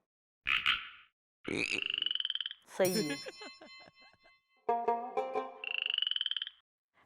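A man imitates a frog, letting out about half a dozen separate croaking bursts with short silences between them, close and clear. Another voice briefly speaks.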